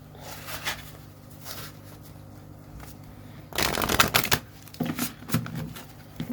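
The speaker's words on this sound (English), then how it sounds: "let's just give it a quick shuffle." Playing cards are shuffled up close, a brisk riffling burst followed by a couple of shorter shuffles over a faint background hum.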